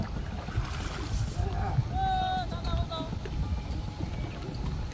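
A large river trawler under way on a shallow char river in northern Bangladesh, its steady engine and water rumble running throughout with a brief whistling tone midway; no talk.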